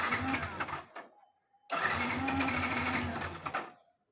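A Yamaha FZS motorcycle engine cranks and catches after a tyre replacement, with the choke pulled: a rough sputter, a short pause, then a steady idling run that fades out near the end.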